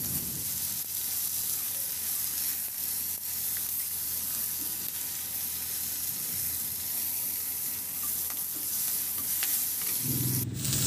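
Pork seasoned with salt and pepper being stirred in a pan, with a steady sizzle and scraping running throughout, close and fairly loud, ending in a brief clatter.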